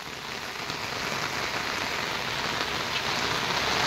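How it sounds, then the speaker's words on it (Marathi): Steady rain pours down outdoors during a monsoon outing, a dense continuous hiss that swells slightly louder after the first second and holds evenly near the listener with no voices. "पाऊस पण असा छान लागलाय ना."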